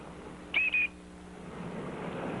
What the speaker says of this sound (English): So I whistled him in. Like this.